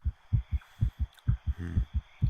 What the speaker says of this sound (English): With my heart pounding in my ears, it takes a while to remember where I am.